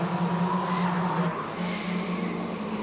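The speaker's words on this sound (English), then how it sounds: "Lots of tyre squealing." Racing touring cars in a 1991 German Group N race, including Peugeots and Opels on the Salzburgring, squeal their tyres in a steady, sustained screech with engine drone underneath, at moderate distance and without talk.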